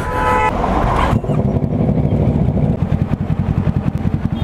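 A Yamaha R1 sport bike fitted with a Toce exhaust roars loudly while riding in Mumbai, a close, harsh engine blare with a sharp rev surge near the start and steady pulsing drone after, no talking.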